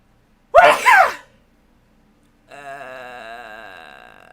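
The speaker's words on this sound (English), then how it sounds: "I heard a sneeze." A single sharp sneeze, close and loud, followed after a pause by a sustained harmonic tone, like a drawn-out hum or groan.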